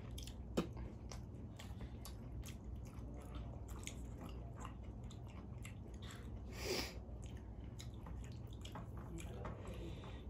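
Close, wet chewing and soft smacking while eating rice with dal, with small squishy bites and faint clicks over a low background hum, with no talking.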